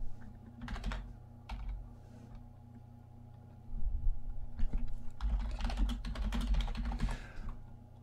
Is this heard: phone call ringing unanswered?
no